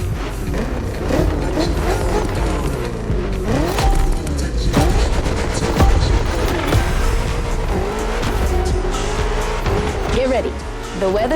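A BMW races in The Crew Motorfest video game, its engine roaring continuously with repeated gear changes and squealing tires, loud and steady throughout, with talk over it.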